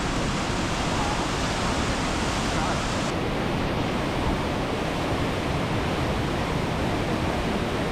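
Huka Falls pours a huge volume of water through a narrow channel in New Zealand, producing a loud, steady, broadband roar of rushing water that continues unbroken and close by with no pauses.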